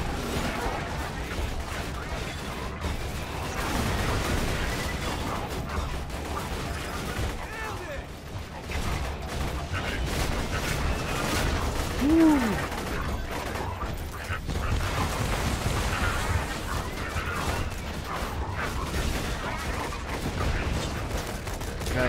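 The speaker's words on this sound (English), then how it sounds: "Got like so many explosions going on" Borderlands 2 gameplay full of dense gunfire and repeated explosions, a continuous loud barrage of shots and blasts running throughout, with voices occasionally talking underneath.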